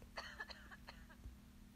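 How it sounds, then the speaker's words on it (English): A few quiet, short coughs and a throat-clearing sound come in a small cluster, faint and close. "I'm glad you're coughing"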